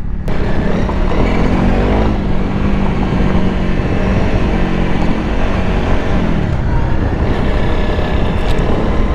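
A loud, continuous engine drone from a Honda CRF 300 Rally motorcycle ridden over rough, stony terrain, with revs swelling at the start and again near the end, and no speech.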